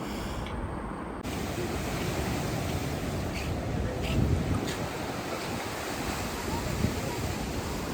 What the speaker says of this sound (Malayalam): തിരമാലയ്ക്കെന്ന് പറഞ്ഞാൽ വളരെ ശക്തിയായിട്ട് അടിച്ച് കരയിലേക്കൊക്കെ കയറുന്ന കാഴ്ചകളാണ്